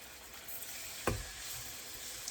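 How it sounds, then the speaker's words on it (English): Chicken breast sizzles steadily in a hot skillet, a soft continuous frying hiss with a brief clatter midway, close and quiet. "I'm going to pan fry it just like this."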